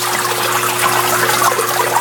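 An aquarium filter trickles water steadily, a close, continuous splashing flow with a faint constant hum beneath it.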